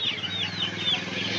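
Chickens at a busy hen market cluck and chirp in short repeated calls over a low crowd murmur.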